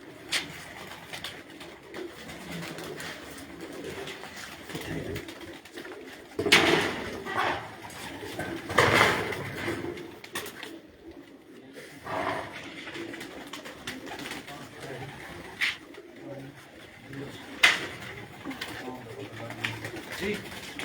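Racing pigeons coo on a rooftop loft in Punjab, soft low calls rising in a few louder bursts over quiet outdoor ambience, with people talking now and then in the background.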